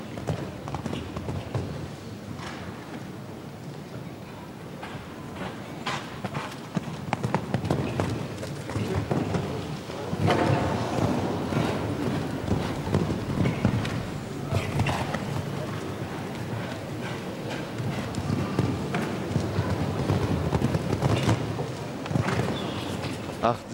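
Hooves pound rapidly in a galloping rhythm across a wide show-jumping arena at the Euroclassics in Bremen, mixed with a commentator's voice and a murmuring crowd.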